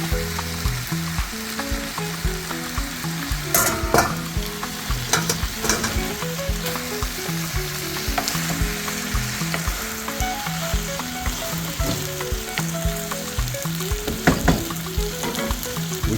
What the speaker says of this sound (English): We stir it around, then comes the pasta.